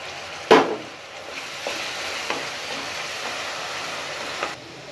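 Gentle, continuous sizzling of ginger garlic paste frying in a pan, with a sharp utensil clink near the start and a few soft stirring scrapes.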